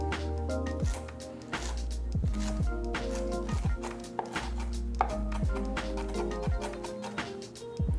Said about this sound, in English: I'm gonna cut up the parsley.